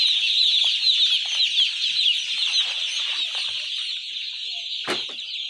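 Newly arrived chicks on a poultry farm, being counted in crates, fill the air with a dense, shrill chorus of peeping and chirping. It stays constant throughout, with one sharp knock near the end and no voices.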